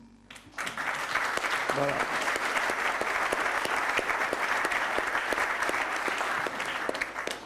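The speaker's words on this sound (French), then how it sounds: "En tant que nouveaux participants, je vous propose de les applaudir." An audience at an association's annual gathering breaks into sustained, dense applause for new participants, loud and continuous for about seven seconds after a brief spoken word.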